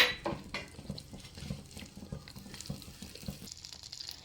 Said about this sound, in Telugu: ఇప్పుడు స్టవ్ మీద ఒక ప్యాన్ తీసుకొని ముందుగా కట్ చేసి పెట్టుకున్న బటర్ని